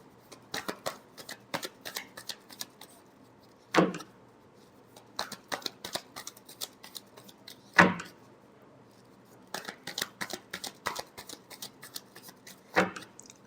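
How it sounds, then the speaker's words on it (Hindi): Tarot cards are shuffled in repeated quick bursts of crisp riffling and tapping, close and fairly quiet, with brief pauses between the rounds. "Last shuffle."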